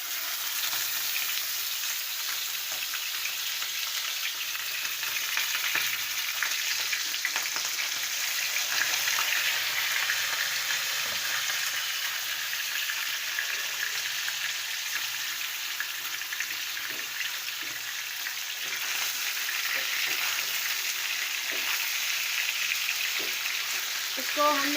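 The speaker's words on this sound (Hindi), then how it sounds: "3 से 4 चम्मच कुकिंग ऑयल में हम मछली को फ्राई करेंगे।" Fish fries in three to four spoons of hot cooking oil. A dense, even sizzle and crackle holds steady and close for the whole stretch.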